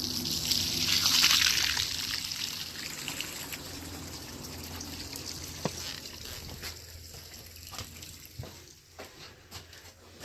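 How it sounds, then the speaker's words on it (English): Water trickles and splashes steadily out of a leaking tank being drained, a continuous near liquid flow that is strongest at the start and settles into a softer dribble with occasional small knocks. "I mean, drain that out. That's pretty good flow."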